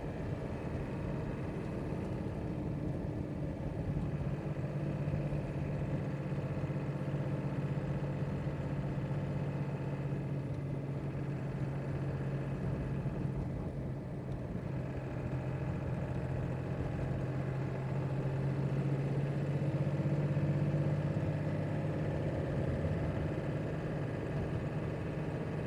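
Car engine idling and rumbling steadily while driving over frozen snow and ice in the Arctic, a continuous low hum with hydraulic boosted brakes, moderately loud and unbroken throughout.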